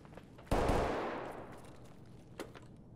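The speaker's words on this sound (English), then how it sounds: "I hear shots." A gunshot burst in Escape From Tarkov's Factory map, a sharp loud crack with a long decaying rumble, followed about two seconds later by a second fainter distant shot.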